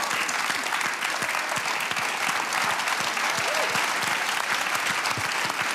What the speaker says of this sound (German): wenn ich es gut getroffen habe, geben Sie mir einen großen Applaus.